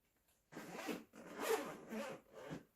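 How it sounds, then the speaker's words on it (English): Zipper on the compact hard case of an iTechworld multifunctional jump starter being pulled open in several quick rasping strokes, close and fairly loud, with no talking. "Zip out opening."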